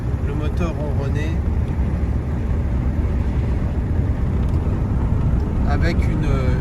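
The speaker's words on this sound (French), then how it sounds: "on entend le moteur ronronner" A Rolls Royce Silver Shadow II engine purring while driving at moderate speed, a loud, steady low drone mixed with road and wind noise from inside the car, with a voice talking over it.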